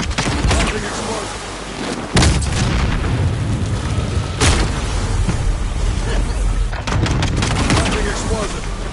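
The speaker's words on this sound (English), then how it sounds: "Friendly explosion." Repeated explosions in the shooter game Warzone, three heavy booms at steady intervals over a continuous roar of battle noise, loud and close, with game voice callouts mixed in.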